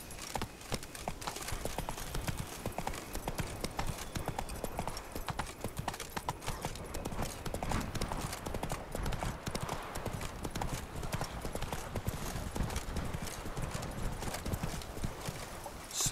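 Rhythmic hoofbeats of a horse galloping in The Witcher 3 pound out a fast, steady clip-clop across the whole stretch, with brief spoken commands to the horse over them.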